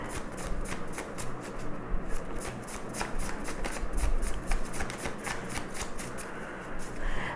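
Tarot cards shuffled by hand in a rapid, continuous riffling patter of crisp flicks, close and steady, with a few cards being drawn.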